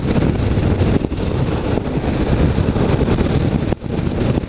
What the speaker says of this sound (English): there is noticeably more wind buffeting around my helmet for some reason.